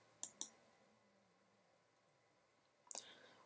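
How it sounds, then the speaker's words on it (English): Computer mouse clicks during a spreadsheet import tool tutorial: a close double click near the start, then another sharp click about two and a half seconds later, crisp and isolated against a quiet background. "Then click next."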